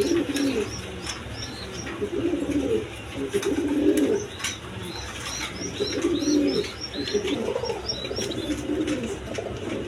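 A pair of racer pigeons cooing close by in a cage, repeated soft rolling coos in regular phrases over a low background hum, with a few faint chirps.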